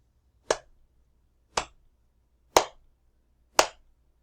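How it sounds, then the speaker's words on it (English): Four hand claps spaced about a second apart in a slow, steady beat, each a loud, crisp smack nearby with quiet gaps between them. "If we clap at that beat, we can read a little bit slower"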